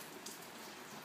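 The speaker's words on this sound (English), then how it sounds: "It's wet, huh?" Steady rain falling on a rainy day, a soft, faint continuous hiss of drops with no other sounds.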